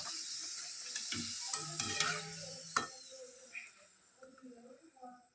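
Wholewheat luchi deep-frying in hot oil in a home kitchen: a steady, fairly quiet sizzling hiss with a few sharp clatters early on and a faint voice murmuring now and then.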